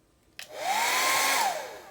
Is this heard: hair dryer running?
yes